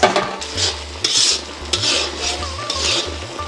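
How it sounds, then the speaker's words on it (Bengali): Hilsa fish pieces going into fried spice paste in a pan, with close clinks and scrapes of a utensil against the pan over a low sizzle, plus a rhythmic low hum, no talking. "দেখুন মশলাটা কষানো শেষ এখন দিব মাছ"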